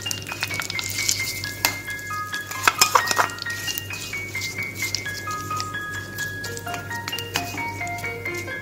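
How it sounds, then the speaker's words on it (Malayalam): Tempering is stirred into a Kerala sadya erissery of pumpkin and red moong beans, with spoon clinks against the pot and a soft sizzle over a steady background hum; no one speaks. "താളിച്ചത് നമ്മൾ എരിശേരിയിലേക്ക് ചേർക്കണം."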